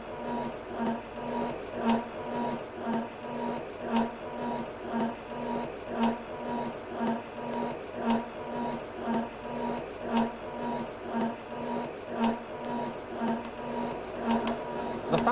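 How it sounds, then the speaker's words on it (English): A shaping machine cuts flat surfaces and grooves in cast iron or mild steel, giving a steady repeating mechanical stroke about every second, with a constant hum and rasping scrape under each cycle. "The function of a shaping machine such as this is to cut flat surfaces and grooves in metal such as cast iron or mild steel as we have here."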